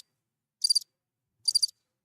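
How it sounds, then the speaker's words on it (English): A button at a pool tournament triggers a cricket chirping sound effect. Two short, bright chirp bursts come about a second apart in otherwise total silence. "I hit the crickets"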